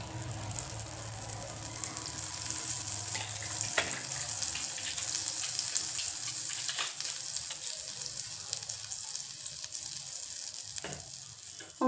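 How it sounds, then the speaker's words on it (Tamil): Butter sizzles steadily on a hot griddle for pav bhaji, a constant hissing fry with faint clinks and a brief watery splash near the end, no voices. "இப்போ இதில் வந்து நான் கொஞ்சோண்டு பட்டர் போட்டிருக்கேன்."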